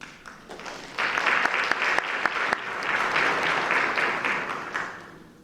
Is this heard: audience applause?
yes